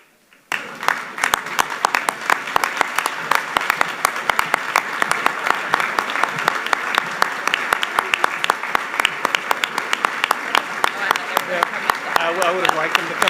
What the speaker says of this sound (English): we stand and applaud as the seniors enter